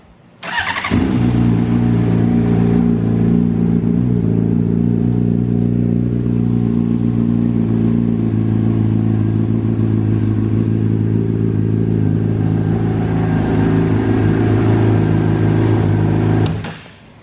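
A 2007 Honda CBR600RR sport motorcycle, rebuilt after a wreck, starts with a sharp catch and settles into a loud, steady, throaty idle with light revs, running continuously until it cuts off at the end.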